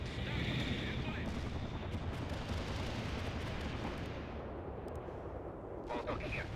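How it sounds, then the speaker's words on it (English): An artillery strike in the real-time strategy game World in Conflict, a dense, continuous rumble of explosions and booming fire filling the scene with faint radio chatter underneath. "Artillery strikers on the way."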